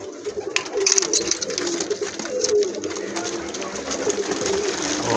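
Golden and Kasuri pigeons coo continuously at close range on a rooftop loft, soft rolling calls overlapping with occasional wing flutters.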